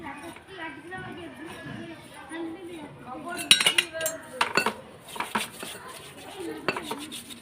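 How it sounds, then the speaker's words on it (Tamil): A brass kuthu vilakku lamp being rubbed clean with raw tamarind, giving scraping and clinking metal sounds close by under continuous talking. "பச்சை புளியை வச்சு இப்படி தேய்ச்சி"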